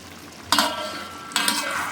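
Chicken kosha stirred in a pan: two loud bursts of scraping and sizzling as the spatula moves through the meat, separated by a short quieter gap, close up.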